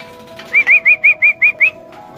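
Racing pigeons at a loft coo in a steady run of seven short, clear, evenly spaced calls, close and loud, with faint background noise and no talking.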